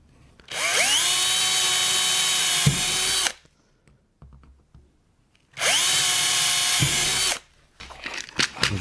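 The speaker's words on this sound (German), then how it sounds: "Jetzt zeichne ich hier die Mitte an. Bohren wir schnell durch. 5 mm." A power drill boring a 5 mm hole at a marked centre point near a Bosch GTS 10 XC table saw, two loud steady whining runs of about three seconds each, with quiet handling noises between them.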